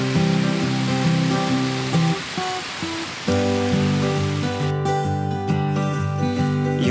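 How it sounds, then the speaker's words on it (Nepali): The Sardu Khola, beside the Dharan–Chatara road, flows under a bridge in light rain with a steady, even rush of water, partly masked by prominent background music. "यो चाहिँ पुलदेखि माथिल्लो भागको खोला हो।"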